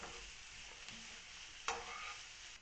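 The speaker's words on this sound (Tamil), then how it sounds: "இப்படி நல்லா கொஞ்சம் வதங்கின உடனே கொஞ்சம் உப்பு போட்டு இப்படி வதக்குவோம் முதல்." Vegetables, including carrot, being sautéed with salt in a pan for prawn and chicken mixed rice, giving a steady soft sizzle with occasional stirring scrapes, one sharper scrape near the end.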